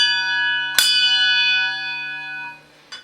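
A single bright strike of a boat bell rings out and sustains with a clear, slowly decaying tone, followed by a second lighter tap near the end.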